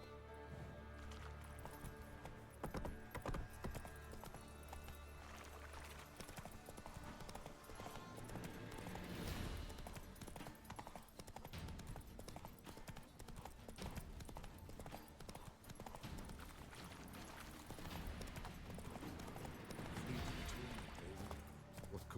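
Roach the horse clip-clops in The Witcher 3, hooves striking in a steady rhythmic patter over a game soundscape, fairly quiet, with occasional faint voices.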